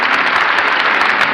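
Radio studio audience at a 1940 Chicago Theatre of the Air broadcast applauds steadily and loudly, a dense continuous clapping that fills the whole brief moment.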